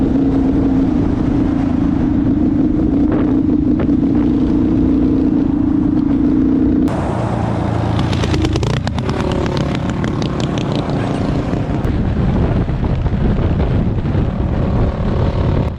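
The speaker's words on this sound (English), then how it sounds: "Along the ride back, my bike began running really rough like it had been at the beginning of the day, but worse." A dual sport dirt bike engine runs rough along a trail near Moab, Utah, a loud continuous drone with wind buffeting, its pitch shifting midway as the uneven engine note carries on throughout.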